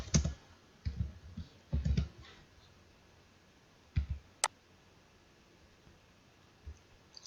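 Fingers tap out a short word on a computer keyboard in a few quick bursts of soft clicks, with pauses between them and one sharper click near the middle, faint and close in a quiet room without speech.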